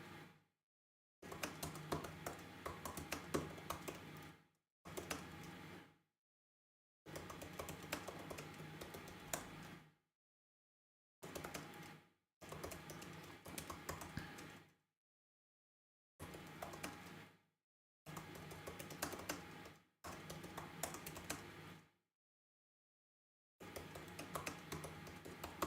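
Bursts of computer-keyboard typing while writing song lyrics, fast key clicks in several runs of a few seconds each, separated by short silent pauses, close and moderately loud with no voices.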